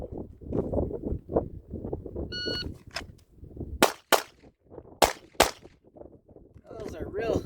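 A Glock pistol fitted with Taran Tactical modifications fires several sharp, loud shots in a quick cluster at a shooting range, with someone talking before and between them.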